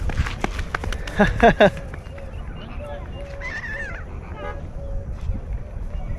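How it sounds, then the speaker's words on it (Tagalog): A goose honks loudly several times nearby amid scuffling movement as it runs, with people talking in the background and outdoor ambience at a lake in Dubai. "Ay, lumatakbo yung gansa dito."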